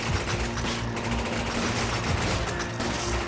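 Enemies firing guns in Resident Evil 5, a dense, continuous barrage of rapid gunfire with machine-gun rattles, loud and unbroken throughout.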